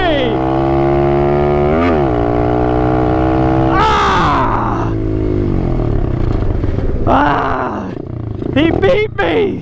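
Yamaha Raptor 90 quad and Apollo 125 RFZ dirt bike engines racing, loud revving rising and falling through gear shifts as the machines pass close, with voices shouting over them.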